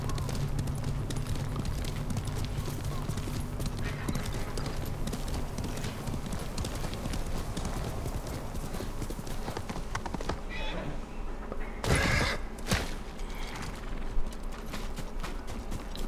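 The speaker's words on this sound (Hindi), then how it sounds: "तो लोग घोड़े पर बैठकर ही चलते हैं" Horse hooves clip-clop in a steady galloping rhythm in the video game Ghost of Tsushima, close and continuous, with other game sounds and a voice heard over the hoofbeats.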